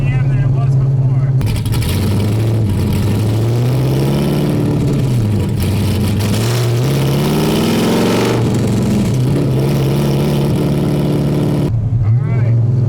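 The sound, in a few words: LS3-swapped Mazda Miata with longtube headers and titanium exhaust revving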